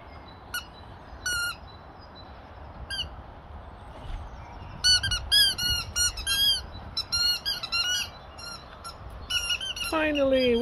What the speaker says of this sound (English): Squeaky toys for the boys.